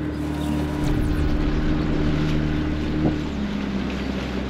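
Strong, steady wind roaring over a microphone on a Danube river island while fishing, a constant dense rumbling gust noise that stays loud throughout, with no voices.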